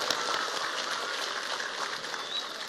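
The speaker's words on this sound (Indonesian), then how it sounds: "Tepuk tangan untuk Indramayu." An audience at a lively Indramayu gathering claps together in a steady, dense burst of applause that holds at an even level for a few seconds.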